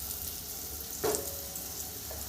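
Potato pieces lightly frying in a pan give off a faint, steady hiss, with one brief clatter partway through and no voices.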